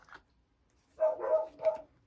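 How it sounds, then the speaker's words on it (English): A few dog barks in quick succession after a moment of quiet, moderately close, with a short faint sound at the start. "my dogs are barking"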